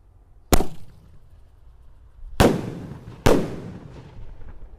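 Indonesian mercon firecrackers go off in three sharp, loud bangs, one alone and then two close together a second apart, each with a short crackling decay over a quiet outdoor background.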